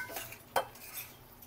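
Drumstick pods stirred into cooked masala in a pan, a spoon giving one sharp clink against the metal amid faint scraping, quiet and close.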